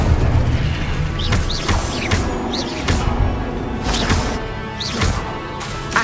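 Fire spell blasts in the Hogwarts Legacy wizard combat game, a run of loud booming bursts and whooshing impacts about every second, layered over a constant low rumble of battle noise.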